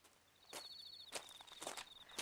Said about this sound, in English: I heard footsteps padding through the grass